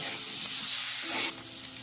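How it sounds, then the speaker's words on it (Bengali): Potatoes frying in a kadai with salt and turmeric, a soft, steady sizzle with a brief stir near the end, faint and close, no talking. "হাফ চামচ নুন, হাফ চামচ হলুদ গুঁড়ো দিয়ে ভালো করে এটা ভেজে নেব"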